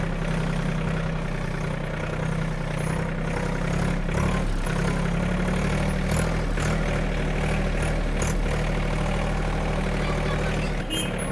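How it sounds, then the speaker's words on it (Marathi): A tractor engine runs while being driven, giving a steady, loud low rumble with no let-up throughout and no talking. "हे बघू शकता तुम्ही ट्रॅक्टर कशी चालवत आहे"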